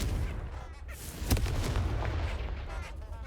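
In the Hogwarts Legacy video game, a Confringo spell lands with a sharp blast midway, against a rumbling, crackling low background of game sound and faint dull thuds.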